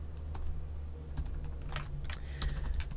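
Steady clicking of keys on a computer keyboard while code is typed, close and moderately loud, with irregular keystroke rhythm and no talking.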